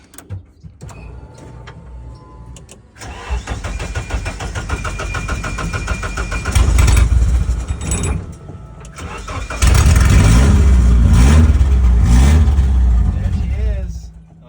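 A Nissan 240SX project car engine cranks and catches, revs unevenly and roughly idles without staying running, surging louder twice, with a voice speaking briefly over it.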